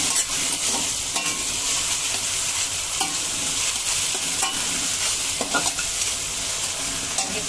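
Prawns coated in ginger-garlic paste stirred in a frying pan for Agri-style kolambi bhaat, a steady close scraping and clatter of the spoon over continuous oil sizzle, with a few sharper knocks against the pan.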